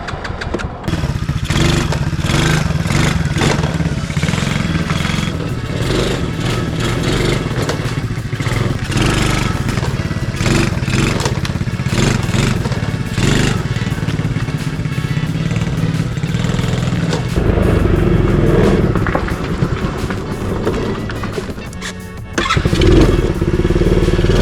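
A revived mini quad engine running with a low, unsteady idle that needs carb tuning, a loud close chugging rattle that surges and sags throughout, briefly dipping before picking back up.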